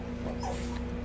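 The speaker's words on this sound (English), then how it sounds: "And that's my dog who's bitching." A dog whimpers and yips softly indoors, making a short, faint whine over low background hum.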